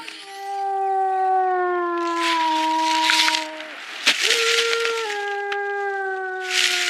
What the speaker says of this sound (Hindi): ये तो लाली के रोने की आवाज है।